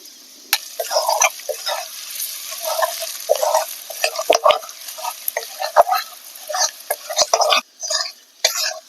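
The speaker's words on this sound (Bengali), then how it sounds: "মশলা আমি এখানে 1 মিনিট মতো কষিয়ে নিয়েছি।" Tomato, onion and potato sautéed with turmeric and cumin powder in a pan, heard as a soft sizzle under repeated scraping stirs of a spatula against the pan, close by, with brief clinks and pauses.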